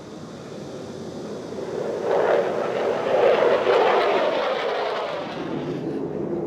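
A fixed-wing aircraft passing over an Air Force town in Daegu, South Korea, a broad engine roar that swells to a peak at mid-clip and then slowly fades, with no clear speech.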